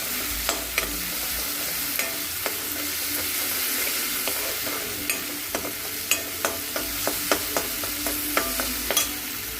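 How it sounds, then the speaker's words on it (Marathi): Garlic-ginger paste, curry leaves and tomato sauté in a hot pan, sizzling steadily while a spoon stirs with a series of sharp scraping clicks, close and clear, with no talk. "आपल्याला आपली लसूण, आल्याची पेस्ट टाकायची आहे, म्हणजे लसूण, आलं, कढीपत्ता पण छान भाजला गेला पाहिजे"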